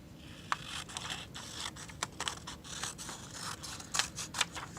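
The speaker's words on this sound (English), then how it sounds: "I'm going to cut that off." Scissors snipping through a paper strip while making paper beads, a string of crisp close cuts and scraping snips in an irregular rhythm.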